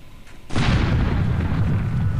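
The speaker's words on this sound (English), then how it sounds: "they're shooting" Cannon fire in the airship combat game Air Buccaneers: a sudden loud burst followed by sustained booming, rumbling battle noise that stays dense and heavy to the end.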